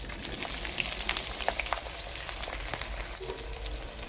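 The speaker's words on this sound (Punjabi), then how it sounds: "ਤੇ ਪਹਿਲਾਂ ਆਪਾਂ ਤੇਲ ਦੇ ਵਿੱਚ ਕਰੇਲਿਆਂ ਨੂੰ ਫਰਾਈ ਕਰਾਂਗੇ" Bitter gourd fries in hot oil in a kadai on a stove, giving a continuous dense crackling sizzle with small popping spits scattered throughout, close and steady.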